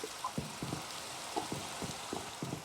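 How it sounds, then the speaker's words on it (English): Steady Minecraft rain hisses evenly across the whole stretch, with soft scattered patters and faint blips mixed in, at a constant moderate level with no talking. "It's been raining all day, all night, and all day."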